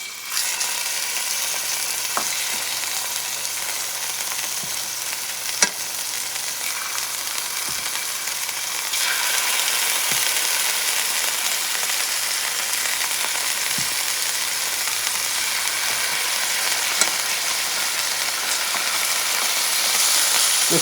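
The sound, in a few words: scallops frying and sizzling in a hot pan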